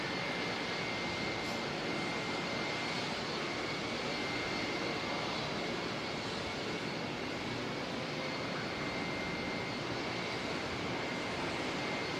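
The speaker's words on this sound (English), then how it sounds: "Qantas 143 from Sydney next to arrive." Qantas flight 143 from Sydney, a jet airliner, arrives at Auckland Airport: a constant broad engine rush with a thin steady whine running over it, moderately distant and unbroken by talk.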